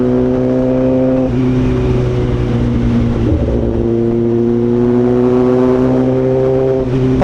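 Kawasaki ZX10R motorcycle on a night ride in Hyderabad: a loud, steady engine drone with a strong hum that dips briefly and then rises again, with no clear pops standing out and no talking.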